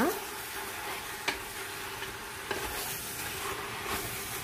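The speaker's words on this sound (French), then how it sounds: "Je vais mélanger tout ça." A spoon stirs ground coriander, ras el hanout and spices in a pot for cardoon couscous, giving a soft continuous scraping and sizzling hiss with a couple of light knocks against the pot.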